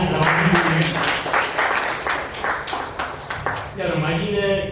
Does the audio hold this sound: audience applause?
yes